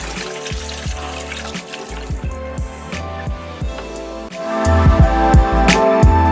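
Filtered water runs and splashes into a pot holding chicken frames for bone broth, pouring steadily with dripping and sloshing that grows fuller and louder toward the end.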